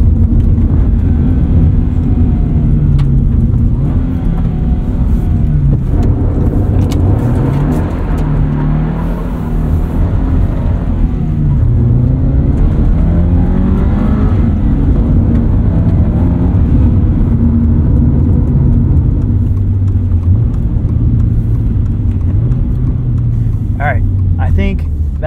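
A 2022 Subaru BRZ engine hums steadily while driving, a low rumbling drone that rises and falls with speed changes, heard from inside the car under someone talking throughout.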